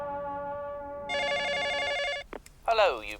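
A telephone rings with a steady electronic tone that switches to a brighter warbling trill and then stops abruptly, followed by a short burst of voice.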